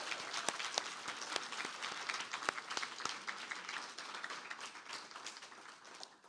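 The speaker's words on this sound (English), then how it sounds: "Let's have another round of applause for Matthew Olzmann." Faculty reading audience applauding poet Matthew Olzmann, a dense patter of many hands with sharp individual claps popping out, steady at first and gradually thinning toward the end.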